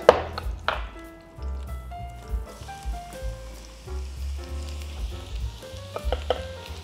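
Onions sautéing in butter and olive oil for truffle risotto, a close crackling sizzle with stirring scrapes and clinks over a faint musical background, no talk.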